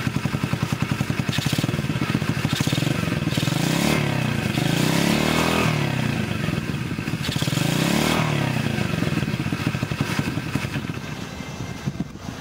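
A small Coolster 70 pit bike engine runs close by with a fast, steady putter that rises and falls through several light revs, mechanical clatter audible over the idle.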